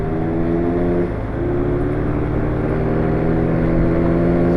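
A Suzuki Satria motorcycle with a fault, not pulling strongly, revs its engine steadily and close by, a constant droning hum with a slight rise near the end and no talk.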